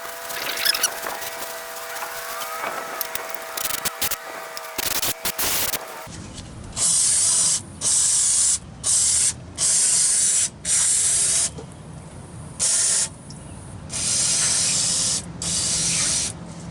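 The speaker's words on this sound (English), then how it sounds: "Spray it one more time, let it dry." Repeated bursts of aerosol spray on a rusty 1965 Ford Econoline rear differential, about nine short hissing sprays in a steady rhythm, close and loud, following a stretch of rougher scraping noise.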